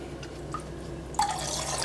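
Liquid sucralose, about 10 ml, is poured into a homemade spicy fishing bait mix of water and molasses, giving a short quiet trickle and drip that turns into a brighter, steady pour partway through.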